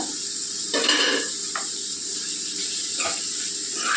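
Gongura prawn curry being stirred in a pan, a spoon scraping and turning the mix in a few close strokes over a steady background hiss.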